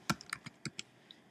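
Fingers tap out a short burst of keystrokes on a computer keyboard, about half a dozen crisp, close clicks in an uneven rhythm, with no talking.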